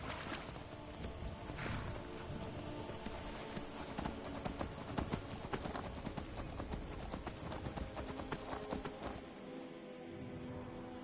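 Steady clip-clop of horse hooves in Skyrim at a brisk trotting rhythm, continuous and fairly loud, with no talking.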